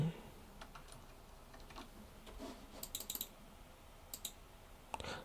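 Clicks and taps of typing on a computer keyboard during a live severe weather broadcast, sparse keystrokes in quick bursts over low room noise, with faint background voices.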